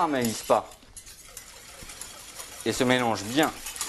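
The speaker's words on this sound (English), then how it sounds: "We'll whisk the sauce a little because as we put in sugar, we don't want it to caramelize" Whisking a sauce of morello cherry juice, spices and sugar in a pan, soft brief scraping and clinking heard between stretches of talking.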